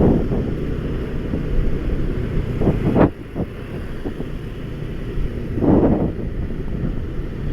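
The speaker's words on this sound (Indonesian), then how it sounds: "Anginnya keras loh, lumayan ini." Strong seasonal wind on a busy street intersection in Bali buffets the microphone as a steady low rumble with gusty bursts, mixed with passing traffic noise and no talking.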